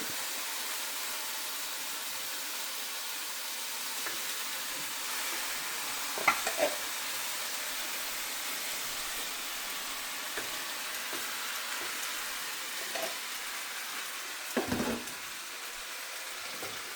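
Lentils and eggplant fry in a pan under a low, even hiss, broken by a few sparse scrapes and clinks of stirring, fairly quiet with no talk.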